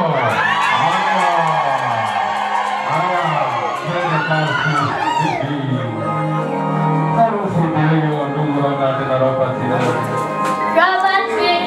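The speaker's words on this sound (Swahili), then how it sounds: "Shangwe na nderemo." A festive crowd cheers and jubilates with whoops, shouts and excited voices, loud and close, blending with sung or chanted voices throughout.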